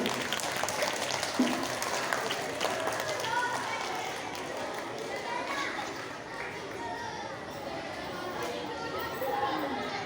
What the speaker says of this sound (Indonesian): tepuk tangan untuk yang berperan sebagai kisah drama kisah panas pagi ini.